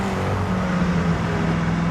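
Inside a Koenigsegg Agera, its V8 bolted directly to the chassis drones loud and steady in a low, even roar for the whole short stretch, with no speech.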